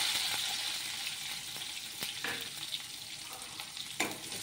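Cumin, mustard seeds, curry leaves and finely chopped onion fry in hot oil for a cauliflower stir-fry, a continuous faint hissing sizzle with occasional small pops and clicks, close up and without speech.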